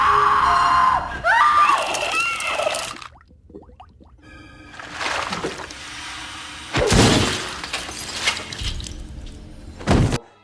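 A frozen head from the cryo bath in the film Jason X smashed onto a table, heard as loud shattering crashes, one near 7 seconds and another sharp one near 10 seconds, amid screams and dramatic movie sound.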